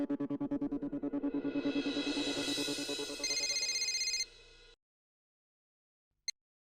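A phone rings with a bright electronic ringtone that plays a pulsing, rising melody for about four seconds, then stops, followed by a single short click.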